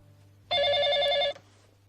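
A telephone rings once, a bright electronic trill lasting under a second, clear and close against a quiet room.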